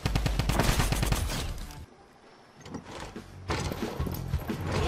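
Rapid bursts of automatic gunfire from the Fortnite Battle Royale mobile game, loud and dense, dropping out briefly in the middle before heavy firing resumes.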